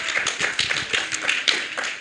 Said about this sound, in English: Everyone, another round of applause to our youngest delegates.